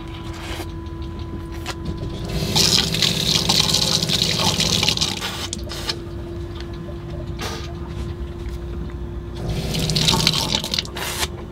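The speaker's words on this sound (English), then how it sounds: "the first thing that I do every morning is brush my teeth" Bathroom tap in a converted bus running water into a sink while teeth are brushed, a steady rush of flow swelling louder twice against a constant low hum.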